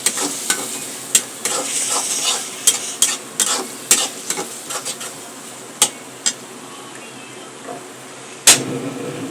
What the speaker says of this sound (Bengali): এবার সুন্দর করে একটু নাড়াচাড়া করে দেব।